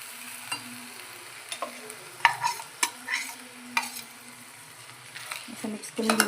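Fenugreek rassa bhaji, a home-style Marathi vegetable curry with a ground paste just added, is stirred in a frying pan: a spoon scrapes and clinks irregularly over a soft simmering sizzle, with a voice in the background.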